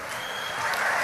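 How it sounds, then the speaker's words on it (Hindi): Brief burst of crowd applause at an outdoor religious katha gathering at Bageshwar Dham, a dense wash of many hands clapping together that swells slightly toward the end. "ताली बजाओ, बहुत अच्छा"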